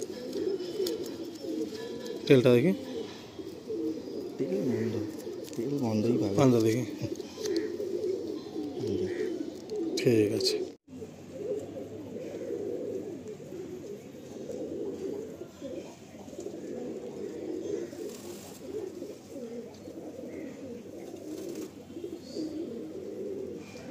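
Pigeons in a loft keep up a continuous low cooing chorus, several birds overlapping close by, with a few sharper knocks and rustles scattered through.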